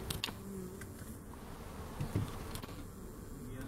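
Honey bees buzz around a newly hived package at an outdoor hive, a continuous close drone with brief rustles and knocks from handling, no talk.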